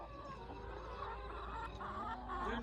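Many chickens on a crowded Filipino poultry farm clucking continuously in an overlapping chorus, steady and fairly close, with no talk over them.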